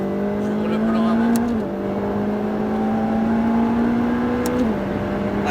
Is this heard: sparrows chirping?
no